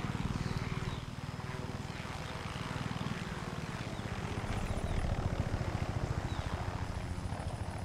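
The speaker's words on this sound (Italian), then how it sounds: "Già arriva un elicottero?" A helicopter arrives in the Far Cry 6 game, its rotor beating in a fast, steady pulse that swells slightly louder toward the end, close and continuous throughout.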